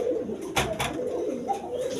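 A coloured golla giribaz pigeon coos in soft, close, repeated throaty calls with a few short wing or movement sounds.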